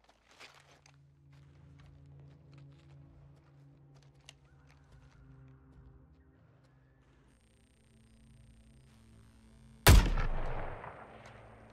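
A single sharp sniper rifle shot in Suicide Squad cracks loudly near the end, following a long stretch of quiet low ambient rumble with a few faint taps.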